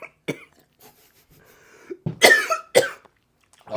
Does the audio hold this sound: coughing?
yes